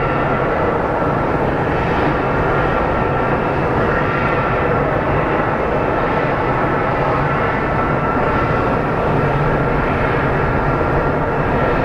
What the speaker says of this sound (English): And now we have a Key Lime Air coming in from Telluride.